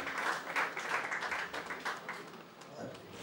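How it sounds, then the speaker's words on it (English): A brief burst of applause from a birthday dinner audience, many hands clapping at once and fading slightly toward the end. "Let's give a round of applause."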